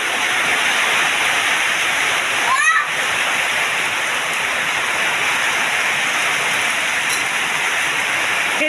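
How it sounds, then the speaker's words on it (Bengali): Heavy rain pours outside a home kitchen during Bengali cooking, a loud, steady broadband roar that fills the whole stretch without a break, with one brief sweeping sound near the middle. "অনেক জোরে বৃষ্টি পড়ছে।"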